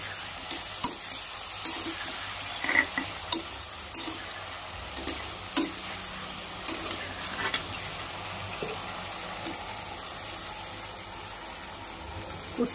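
Tomatoes sizzle in a hot pan at a low, steady hiss, broken by repeated sharp scrapes and taps of a spoon stirring them.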